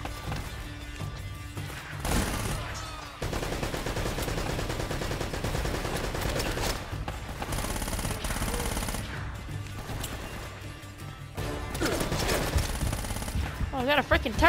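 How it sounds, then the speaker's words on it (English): Turret machine gun fire in the Uncharted video game, long loud bursts of rapid automatic shots broken by short pauses, with explosions and game sounds mixed in. "Oh, I got a freaking turret!"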